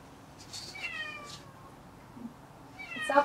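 An electronic MetaCat toy cat gives a couple of synthetic meows, the last one louder and brighter, over a quiet background.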